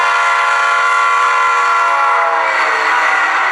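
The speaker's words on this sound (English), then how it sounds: "F5 sounds the Doppler horn sequence" An HO scale Rapido B36-7 model diesel locomotive sounds its Doppler horn sequence, a loud, sustained multi-chime horn blast that drops slightly in pitch near the end, heard alone.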